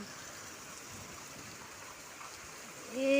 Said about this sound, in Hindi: জল পড়ছে ছাদের থেকে ঝপ ঝপ ঝপ ঝপ করে।